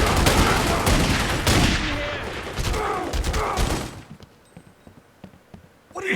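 Heavy gunfire rattles through a Godfather 2 shootout in Florida, dense overlapping bursts of automatic and single shots for about four seconds, then a sudden drop to quieter sparse sounds before a final loud burst at the end.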